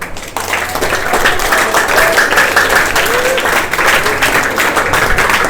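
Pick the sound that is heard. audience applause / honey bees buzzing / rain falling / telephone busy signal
audience applause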